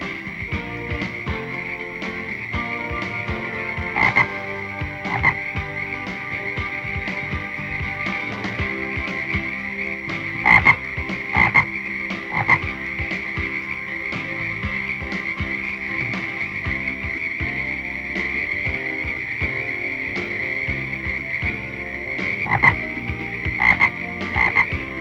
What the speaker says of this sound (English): One sound every female frog listens for is the croaking of a male.